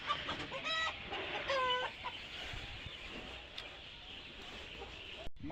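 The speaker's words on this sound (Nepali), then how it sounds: "ल यहाँ चाहिँ भाले पक्रिन जानुपर्छ।" Rooster clucking and squawking in agitated bursts as it is caught at a rural Nepali home in the evening before slaughter, loudest in the first two seconds then fading into faint background noise.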